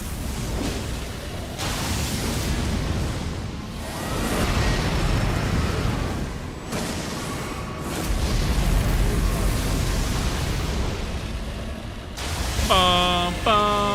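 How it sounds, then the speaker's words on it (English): Flashbang grenade blasts in a first-person shooter game, several loud booming bursts with sustained noisy wash, ending in a high ringing tone. "Flashbang."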